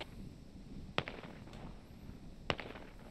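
Two sharp distant gunshots ring out about a second and a half apart in the military simulation game Squad, long-range sniper fire cracking over a steady low ambient rumble with no talk.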